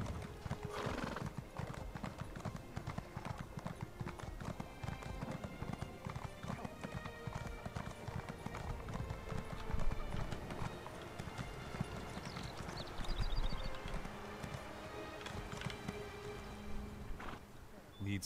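A horse's hooves clip-clop steadily at a walking rhythm in Elder Scrolls Online, with the horse whinnying partway through and faint game sounds and music in the background.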